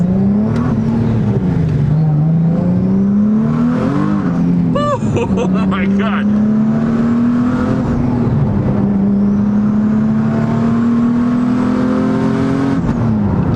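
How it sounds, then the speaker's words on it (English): An engine-swapped Infiniti Q60-powered Nissan 370Z drones and revs steadily up and down, close and loud, with a person exclaiming briefly over it. "this car sounds so nice"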